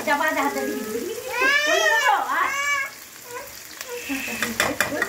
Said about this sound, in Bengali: এই দুটো পেঁয়াজকে আমি ভেজে তুলে রাখবো